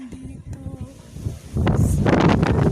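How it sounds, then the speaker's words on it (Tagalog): Strong wind roars and buffets the microphone, surging loudly in the second half after a brief stretch of a voice talking. "Grabe yung hangin dito"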